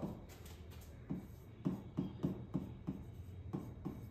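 A pen writing on paper while a math problem is worked out, with quiet scratching strokes and a series of sharper taps in an irregular rhythm, faint and close with no talk.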